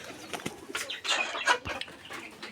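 Hens in a home chicken coop cluck and call in short bursts at close range, a few louder squawks rising midway over quiet background noise.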